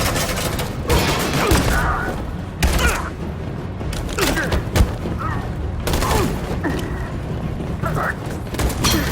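Suppressing fire in Detroit Become Human: scattered gunshots and bursts ring out near and far amid clanking, booming battle noise, with shouted voices over the chaotic, sustained firefight.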